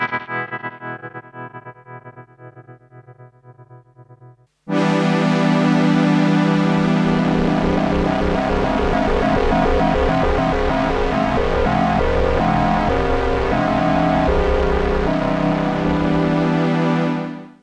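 Behringer BM-12 ring modulator pedal on an instrument signal, a sustained tone that suddenly opens into a loud, distorted, metallic wash with pulsing tremolo rhythms, heard alone and steady for over ten seconds.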